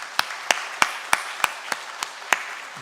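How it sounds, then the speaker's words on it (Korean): A church congregation at a Sunday morning service gives slow, sparse clapping to welcome a new member, eight distinct even claps spaced about a third of a second apart, fairly quiet and roomy. "우리 따뜻한 박수로 환영하겠습니다."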